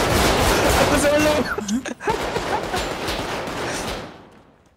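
Rapid gunfire from Grand Theft Auto V roleplay cracks in dense bursts for the first second and a half, then fades behind excited players talking over the game.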